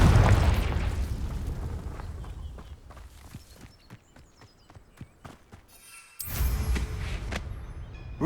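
A Confringo fire spell blast in Hogwarts Legacy gameplay, with a deep booming burst near the start, a lull of scattered clicks and small impacts, then a second heavy boom near the end.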